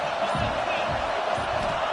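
Steady roar of a stadium crowd in College Football 26, filling a late-game fourth-down moment with continuous broad cheering and faint commentary underneath.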